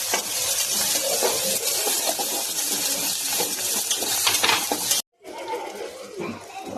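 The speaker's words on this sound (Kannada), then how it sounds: "ಒಗ್ಗರಣೆ ರೆಡಿ ಆಯ್ತು ರೀ" Tempering for upma sizzles and crackles in a hot pan, a continuous frying hiss with stirring clatter, briefly cut off and then resuming more faintly.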